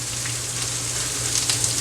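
Olive oil frying in a non-stick pan, a steady soft sizzle with faint crackling pops, constant and fairly close over a low kitchen hum.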